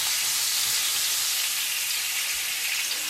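Keftes, flour-dusted meatballs, fry in a hot pan with a steady, dense sizzle and hiss that runs unbroken, close and fairly loud, with no voices.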